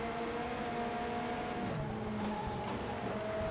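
A race car engine drones in the rally video game Rush Rally 3 on Nintendo Switch, holding a steady, sustained tone that shifts pitch midway through, heard alone without talk.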